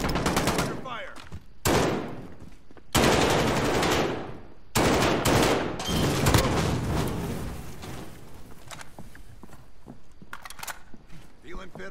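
Automatic gunfire in a Call of Duty: Warzone match, loud bursts of machine gun fire broken by short gaps, with players talking over the game sounds.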